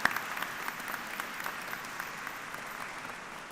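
Graduation ceremony audience applauding university staff, a broad continuous wash of clapping from a large crowd that stays even and moderately distant throughout.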